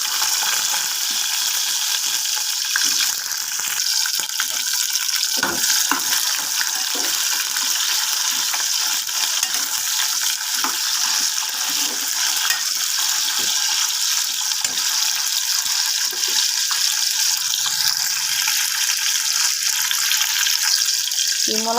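Cut drumstick (moringa) pieces frying in hot oil for a fish curry, giving a steady, loud sizzle that runs without a break through the whole stretch, with no talking over it.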